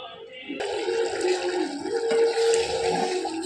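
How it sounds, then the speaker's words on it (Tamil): Brinjal curry bubbling at a rolling boil in a pot, a steady close hiss and burble of simmering liquid that begins abruptly and continues without pause. "நல்லா கொதிச்சு கத்திரிக்காய் நல்லா வந்துருச்சு"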